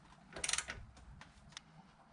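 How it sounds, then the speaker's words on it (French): Bolts on a car's front suspension being tightened with a tool, giving a short burst of metallic ratcheting clicks followed by a couple of faint taps, quiet and close. "On va essayer de revisser ces boulons là, voilà, les deux."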